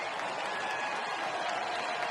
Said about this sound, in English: Crowd trying to jump back in.